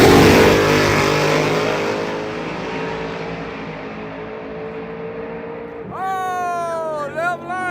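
A lightweight Ford Mustang drag car at a radial tire race event roars loudly up close, its engine tone sweeping down as it pulls away, then a sharp rising rev and shift bursts near the end.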